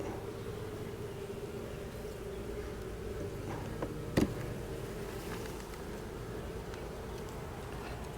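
Honeybees droning steadily at an open beehive full of brood, a continuous low buzz with a few sharper passes close to the microphone and one brief louder bump midway.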